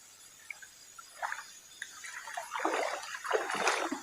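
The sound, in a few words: river water splashing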